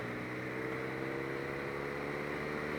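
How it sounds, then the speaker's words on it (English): A 2018 BMW RnineT motorcycle in sixth gear with the throttle opening: a steady, loud engine drone with a layered low harmonic hum, continuous and unbroken, no voices. "I'm going to open throttle."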